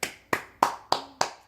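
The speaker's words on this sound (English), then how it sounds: "He just clapped it up." Five sharp, evenly spaced hand claps in quick succession, close and crisp with no talking.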